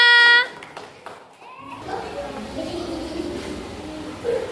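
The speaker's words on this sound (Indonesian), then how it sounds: "Beri tepuk tangan kelompok 2" Children in an Indonesian classroom clap together for a group, a brief burst of hand claps followed by lively chatter and kids' voices filling the room.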